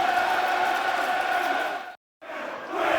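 A Millwall football crowd roars after a goal against Leeds United, a dense, loud wall of cheering and chanting that cuts out abruptly for a moment before surging back.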